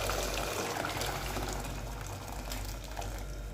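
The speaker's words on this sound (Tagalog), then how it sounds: "Nagpakulo na lang muna ako ng tubig" Water comes to a boil in a pot for a lamb-feet soup, a continuous close bubbling and rushing hiss with no voices.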